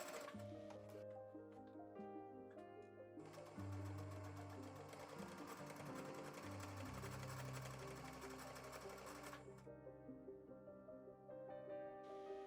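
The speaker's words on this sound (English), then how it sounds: "Sometimes I'll stitch it twice on the same side just to make sure it's sturdy." Sewing machine stitching seams on a four-layer fabric face mask, running in a steady whirring rattle throughout, with a brief pause and a louder, faster burst in the middle, close and prominent.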